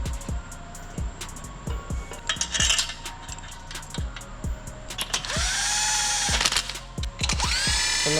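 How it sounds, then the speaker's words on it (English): Bed plate bolts on a BMW N54 engine build are torqued down with a wrench. Close, rapid ratchet clicks repeat in bursts, with metallic clinks and a longer whirring mechanical stretch near the end. Nobody speaks. "Now all we do is we throw on the bed plate, the old bed plate bolts, and we torque them down to spec."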